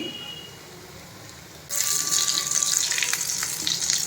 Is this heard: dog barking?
no